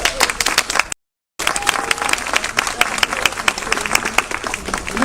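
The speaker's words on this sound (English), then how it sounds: "Huge round of applause for Gail." Audience applause at a rally at the BC Legislature, a dense, steady wash of clapping from a crowd that runs across the whole stretch, broken only by a brief dropout near the start.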